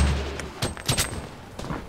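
Bursts of gunfire in the video game Fortnite, a few quick shots spread across two seconds at moderate loudness, with no talk.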